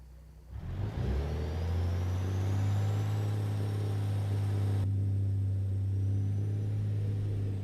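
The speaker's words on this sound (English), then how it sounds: "this truck is a bit loud" A loud truck engine in a truck driving video game drones steadily at a constant pitch, close and continuous, with a faint high whine above it and no talk.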